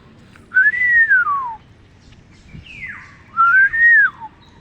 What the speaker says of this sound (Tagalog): Yan yung Oriole, Antulihaw sa Bisaya.